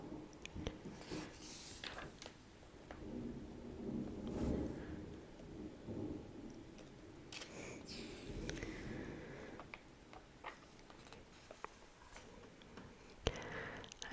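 A thunderstorm with rolling rumbles of thunder and steady rain, heard from indoors at moderate distance, with faint crackles and taps scattered throughout and no voices.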